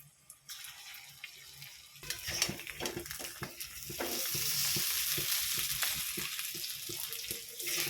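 Lentil pakora fritters fry in hot oil, a rising broadband sizzle that grows louder and steadier, with repeated soft clicks and scrapes of a utensil stirring and turning them.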